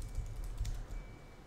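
Quiet, close typing on a computer keyboard, a steady run of soft key taps with one slightly firmer press like the Enter key, and no talking.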